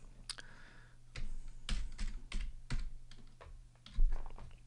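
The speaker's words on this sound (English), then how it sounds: "I'm going to type in some other text here." Computer keyboard typing in irregular bursts of close, sharp key clicks with short pauses, recorded at moderate level over a low steady hum.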